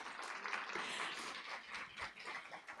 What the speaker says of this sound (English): let's give applause to her